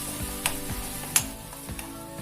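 Chutney with chili powder sizzles in a pan over a low flame, a continuous loud crackling fry with periodic scraping strokes as it is stirred and a couple of sharp clinks.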